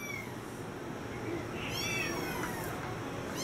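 A mother cat meows repeatedly while nursing her kittens indoors, the cries rising and falling over a steady background hiss.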